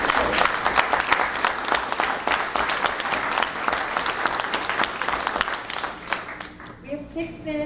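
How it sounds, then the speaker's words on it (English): A meeting audience at a Greenbrae working group session claps for the presenters, producing a thick, sustained burst of applause that fades near the end as a voice begins speaking. "can we just give a round of applause to all the presenters?"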